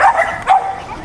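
A dog gives two short, sharp barks close by, spaced about half a second apart.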